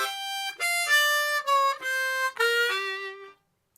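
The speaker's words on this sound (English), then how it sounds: "Next, we have a simplified blues turnaround." Solo harmonica playing a simplified descending blues turnaround in a shuffle rhythm, starting on 6 blow: clear, close, bright reedy notes stepping downward in bouncy groups, alone before stopping near the end.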